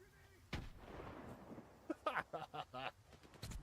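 A grenade blast in the video game Stalker 2: one sudden, loud boom with a rough, rumbling decay, followed by several short bursts of game voices.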